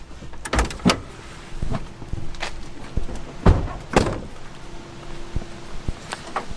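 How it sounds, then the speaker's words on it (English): A 1994 Dodge Ram Cummins pickup being handled around the front: a series of sharp metallic clunks and latch clacks, loud and close, spaced irregularly over a faint background, no voices. "Let's go ahead and pop the hood and take a look under there."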